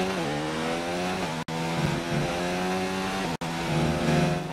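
An F1 car engine in the F1 2019 racing game screams at high revs in a loud, steady, droning whine that shifts pitch slightly, with two brief dropouts.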